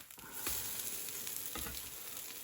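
A pancake sizzles in a hot pan just after being flipped, a soft steady crackle with a couple of brief scraping taps, heard alone without voices.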